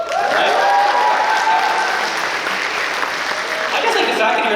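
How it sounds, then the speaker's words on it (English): Sustained applause from a high school graduation audience in Morinville, a loud, dense wash of clapping with crowd noise lasting the whole stretch and easing slightly near the end. "you're in such a clapping mood"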